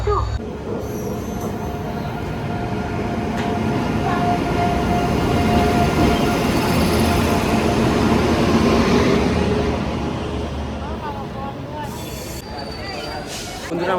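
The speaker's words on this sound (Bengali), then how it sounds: "আমাদের ট্রেন এখন রামপুরহাট জংশন রেলওয়ে স্টেশনের 2 নম্বর প্ল্যাটফর্মে ঢুকছে।" The Kanchanjungha Express, a Sealdah–Sabroom passenger train, rolls into a platform at Rampurhat Junction with a loud, sustained rumble of wheels and carriages that swells and fades, faint squeals and a crowded station murmur underneath.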